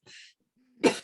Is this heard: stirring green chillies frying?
no